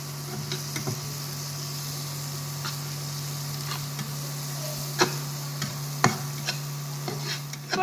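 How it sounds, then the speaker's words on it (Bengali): Gentle frying in butter in a pan for an egg masala, a soft steady sizzle with a low hum and occasional sharp ticks and pops, close and fairly quiet, no talking. "ভালো করে একটু ভেজে নেব"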